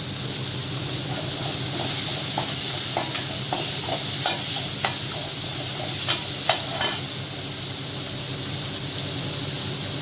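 A large chopped tomato and salt fry in a pan for wedding-style cabbage kootu, a steady close sizzle with a run of light spatula taps and scrapes, no voices.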